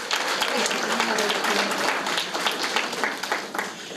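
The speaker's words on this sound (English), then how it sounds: "let's give them a round of applause" A reception crowd applauds the print shop staff with dense, sustained clapping that fills the space for the whole stretch, a few voices mixed into the steady ovation.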